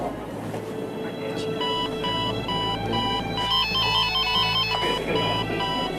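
Alarm ringing in a ship's engine room, a steady repeating electronic tone pulsing in regular beats over a constant low machinery hum, with faint talk in the background.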